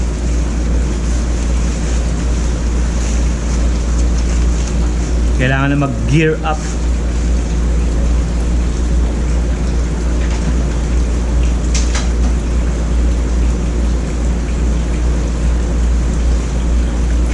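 Steady broadband hiss of rain and wind rushing past a moving motorcycle, constant throughout, with a brief spoken phrase partway through.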